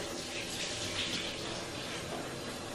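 Running water rinses pink hair makeup out of hair as a steady, soft, close hiss of flowing water continues without a break.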